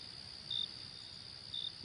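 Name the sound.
crickets chirping in ambience sound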